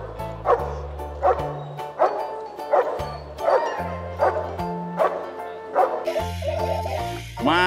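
A police dog shut inside a truck barks repeatedly and close by, sharp regular barks with yips and whimpers, over a steady low musical background.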